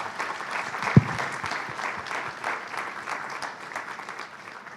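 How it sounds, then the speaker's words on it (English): A roomful of people at a panel discussion applauding, a steady patter of many hands at moderate volume with one sharp knock near the start, no talking. "I think they deserve a warm round of applause."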